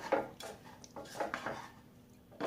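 Close spatula knocks and scrapes against a pan as taro filling is stir-fried, several irregular clinks spaced across a quiet background with no talking.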